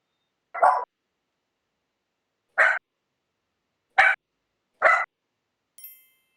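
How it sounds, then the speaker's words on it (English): A dog barks four times in short, sharp, separate bursts, with long silent gaps between them. A fainter fifth yip follows at the end. The barks are fairly close and there is no talk over them. "Sorry about my dog expressing strong opinions about this."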